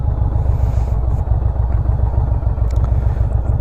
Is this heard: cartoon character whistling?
no